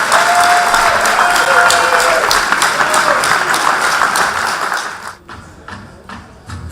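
Wedding guests give loud, sustained applause after a speech, many hands clapping together with cheering voices mixed in before the clapping thins out and fades near the end.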